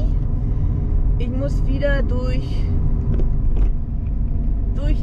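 Car cruising on a road just off the Autobahn in Sicily, a steady low engine and road rumble throughout while someone talks over it.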